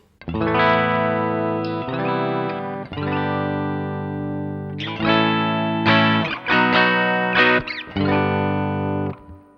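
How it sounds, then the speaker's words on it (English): Clean electric guitar tone from a Les Paul through a Marshall amp with light reverb: a series of sustained chords and notes, each ringing out before the next, loud and up front. "My Les Paul through Marshall, pretty standard tone with just a little bit of light reverb on it"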